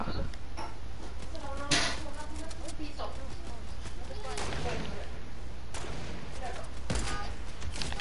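Gunfire in a console shooter, with sniper rifle shots landing as a few sharp cracks scattered through steady game noise while players talk over it.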